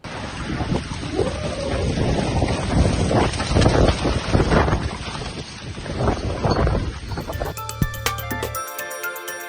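Strong storm winds in Istanbul roaring and buffeting the microphone in uneven, rumbling gusts for several seconds, then cut off by a brief electronic tone.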